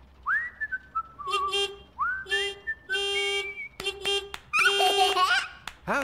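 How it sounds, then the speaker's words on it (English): A cartoon character tries to whistle, producing a series of rising and wavering whistled notes in short bursts, with giggly, breathy sounds between attempts, close and fairly loud. "Trying to whistle"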